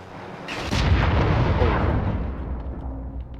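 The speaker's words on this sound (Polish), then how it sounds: "jakiś wybuch był, co?" A sudden loud explosion bursts out, then a heavy rumble slowly fades away; it has the processed sound of a video game blast.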